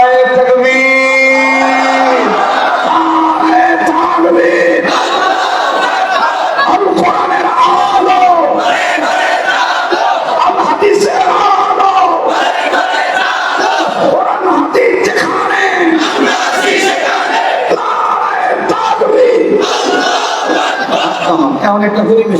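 A large crowd at an Islamic sermon gathering shouts back in unison, repeated rhythmic chants and roars answering a leader's call, loud and reverberant across the whole stretch.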